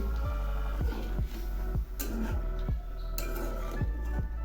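Cauliflower roast being stirred in a pan, with a spoon scraping and clinking against the metal at a steady, rhythmic pace and a quiet sizzle underneath.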